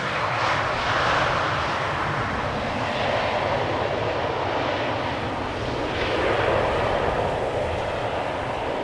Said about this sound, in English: Silver SkyTeam Embraer 190.